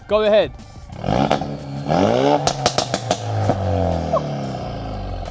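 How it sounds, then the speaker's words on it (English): A modified Ford Focus RS Mk3 with a Scorpion exhaust system and a sports cat revs several times, giving a rising and falling engine roar with sharp pops and crackles. A short spoken phrase comes first. "I threw a Scorpion exhaust system on it, which sounds a little like this."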